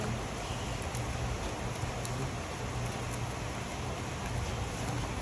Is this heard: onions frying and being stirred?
no